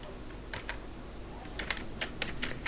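Keystrokes on a computer keyboard while Python code is entered, sparse at first and then coming in quicker clusters of light clicks, close and clear over a soft steady room hiss.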